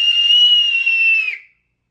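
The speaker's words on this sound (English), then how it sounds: "Is it cheating if I whistle?" A person whistling one long, steady, high note to steer a voice-controlled rage game, loud and close, ending abruptly after about a second and a half and followed by silence.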